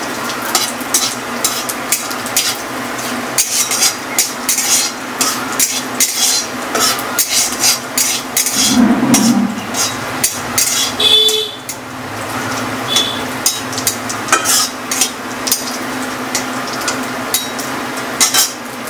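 Cumin seeds crackle and sizzle in hot oil in a pan while a spoon stirs and clinks against the metal, producing loud, steady frying with frequent sharp taps close by and no voices.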